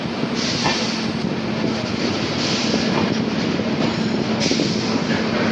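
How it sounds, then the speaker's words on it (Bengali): Humsafar Express train pulling out of New Jalpaiguri Junction, heard from on board as a loud, steady rumble of wheels on track with faint rhythmic clatter. "নিউ জলপাইগুড়ি জাংশন থেকে আমাদের ট্রেন কিন্তু ছেড়ে দিল"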